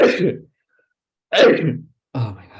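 A single sharp sneeze bursts out near the start, followed by a pause and then a second burst, with a voice speaking briefly afterward, close and loud in a quiet room.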